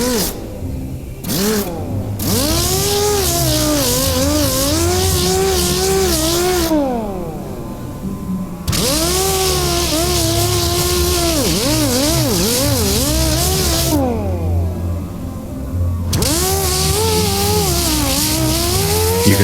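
Spinning sanding tool working bondo filler on a 1968 Camaro body, a loud whirring motor whose pitch rises and dips repeatedly, running in long bursts separated by short pauses.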